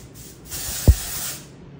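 A single short hiss of dry shampoo is sprayed from a can onto a section of hair, close and fairly loud, with a soft thump in the middle and no talk.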